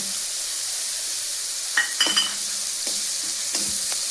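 Onion puree with ginger-chili paste and asafoetida fries in hot oil for a cashew paneer curry, giving a steady close hiss broken by a few light clinks of a spoon against the pan.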